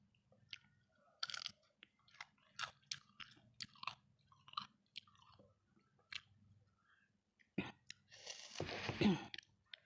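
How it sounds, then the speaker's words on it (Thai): Crab salad with cashew nuts is eaten close up, giving soft, irregular crunches and wet chewing bites with short pauses and a louder crunch near the end. Faint murmuring can be heard between bites. "มานี่จะกินกับยำปู วางไว้เลยค่ะ"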